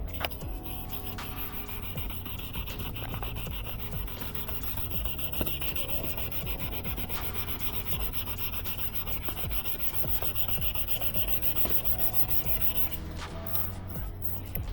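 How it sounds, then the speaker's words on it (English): Continuous rhythmic scrubbing as a 2013 Nissan Juke is wet sanded by hand with Klingspor sandpaper, close and steady, with brief rubbing strokes repeating throughout and no talk. "gonna wet sand it"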